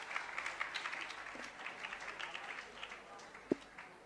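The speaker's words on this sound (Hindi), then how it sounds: "मलैया जी का सम्मान तालियों से एक बार सभी लोग करेंगे।" An audience at a Jain religious gathering with Sudha Sagar Ji Maharaj applauds in a faint, steady patter of many hands clapping, with a single louder knock near the end.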